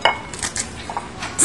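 Pots and utensils clinking and scraping while corn adobo is sautéed, several quick metallic knocks and clatters, close and short, with no talk.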